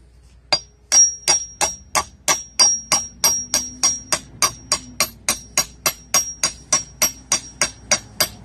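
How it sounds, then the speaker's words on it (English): Steady metallic hammer taps into brick while replacing porch railings, about twenty-two evenly spaced strikes with a ringing edge, loud and close with no voices. "I'm gonna take a hammer, tap that in the brick."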